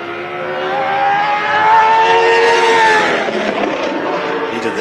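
A Formula Supra time attack car at a World Time Attack event screams at very high RPM, its engine note climbing and holding in a loud, sustained harmonic wail before easing off, with faint crowd and track ambience beneath.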